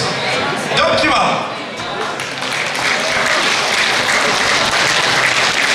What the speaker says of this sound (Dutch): Een geweldig applaus voor Gertje